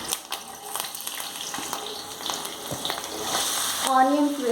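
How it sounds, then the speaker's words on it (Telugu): Onions dropped into hot oil for a chicken curry crackle and sizzle loudly up close, with a few stirring scrapes and the frying growing denser toward the end; no voices. "సో ఇప్పుడు ఇది హీట్ అయ్యింది, నేను ఆనియన్స్ వేసేసుకుంటున్నానండి."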